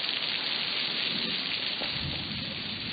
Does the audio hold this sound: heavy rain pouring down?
yes